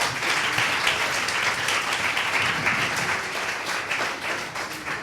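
Audience applause for four Midnight Robber performers, a broad steady wash of many hands clapping, loud and sustained with no talking over it.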